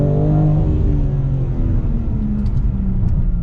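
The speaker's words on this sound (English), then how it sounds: "I'm gonna give it a little bit of gas to see how it feels in road mode" A 2022 BMW M4 Competition in road mode revs and accelerates hard, a loud rising roar with a deep rumble that holds steady throughout, no voices.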